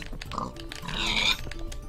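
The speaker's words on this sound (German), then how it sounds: "da kommen die ganzen Schweine her." Pigs in Minecraft give a couple of short grunting oinks, close and clear, over a low game background, with someone talking around them.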